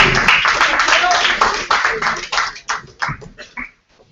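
An audience at a celebration honoring a Chicago police torture victim's mother and children claps loudly amid mixed voices, the crackling applause thinning into scattered claps before fading to near silence.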